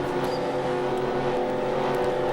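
A field of stock cars pulls off pit lane at Langley in a Busch Grand National Series race in a racing video game, engines droning loud and steady with overlapping tonal hums and no speech.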